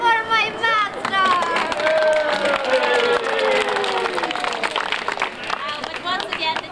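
An audience cheers and claps at a 1987 Pennsylvania Renaissance Faire puppet show, a lively crowd roar with scattered clapping and whoops mixed with a voice rising over the noise throughout.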